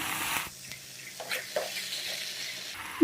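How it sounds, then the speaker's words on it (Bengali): Cabbage and fried potatoes stirred in a spiced pan give a soft sizzle broken by scraping spatula strokes and clanks against the pan, close and intermittent over a few seconds. "এবার আমি দিয়ে দিয়েছি এখানে বাঁধাকপিটা। এবার ভালো করে একটু নাড়াচাড়া করে নেব।"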